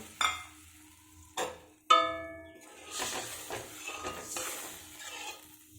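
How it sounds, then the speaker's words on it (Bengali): Water is poured into fried masala paste in a pan while cooking Bata fish curry, giving sharp bursts of sizzle and hiss at the start, then a steady bubbling simmer with some stirring. "এখন এই কষানো মশলাটার মধ্যে দিয়ে দেব অল্প করে জল"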